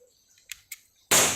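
Two faint clicks followed by one sharp, loud pop that decays quickly, a single close airsoft shot.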